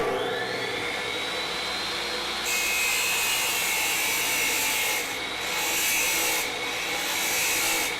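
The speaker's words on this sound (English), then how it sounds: "I'm going to go ahead with the chop saw because it's going to be the straightest cut" A chop saw cutting a shower door frame during a glass shower door kit install, a loud continuous whining grind with the pitch and intensity shifting partway through.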